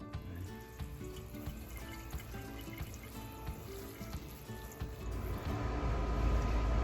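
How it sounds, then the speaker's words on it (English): Water runs from a kitchen sink tap, a soft steady splashing and trickle that swells louder toward the end, with no talking. "I'm going to spray a little bit of water in them from the sink."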